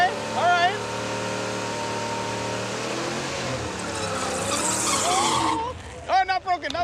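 A Pontiac Trans Am makes a drag-strip pass during a Sick Week test drive, a loud, sustained engine roar and skidding that ends in sharp, repeated tire squeals.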